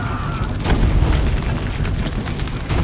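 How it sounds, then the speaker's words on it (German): Cannon fire in Assassin's Creed Brotherhood, a loud deep boom rolling into a dense rumbling blast that fills the moment, close and heavy, with no clear talk over it. "Schießt der Kanonenkugel ins Gesicht."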